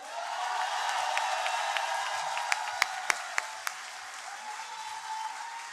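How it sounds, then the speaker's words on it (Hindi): Audience applause at an Urdu poetry mushaira in Lahore, a dense steady wash of many hands clapping for an arriving poet, with a few sharper individual claps standing out near the middle and no voices over it. "भरपूर तालियों में इस्तकबाल कीजिएगा"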